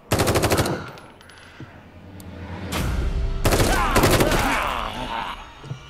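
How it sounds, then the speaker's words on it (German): Gunfire in the horror video game The Evil Within 2 on PS4 Pro, with loud rapid bursts of automatic shots followed by sustained shooting layered with game noise and groan-like vocal sounds. "Schieß, bis sie alle tot sind oder uns die Munition ausgeht."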